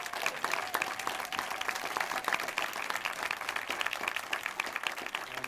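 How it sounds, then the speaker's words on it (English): Warm applause for Warren Evans, Detroit's new police chief, fills a theater at a Michael Moore film premiere: a steady wash of many hands clapping, moderately distant and even in level throughout. "a warm round of applause for the police chief, the new police chief here in Detroit"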